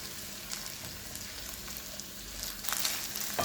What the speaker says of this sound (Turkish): Güzelce kavurmaya devam ediyoruz.